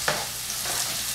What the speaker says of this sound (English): This is frying up nice.